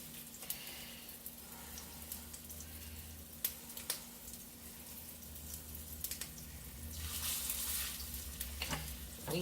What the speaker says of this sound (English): Put them in the frying pan.